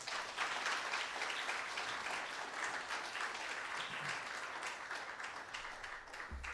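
Audience applause welcoming artist Rashaad Newsome to a talk, a steady, dense wash of many hands clapping that holds evenly throughout without voices.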